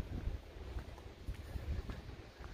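Low, gusty wind buffets the microphone in uneven rumbling bursts, steady throughout and fairly quiet, with no voices.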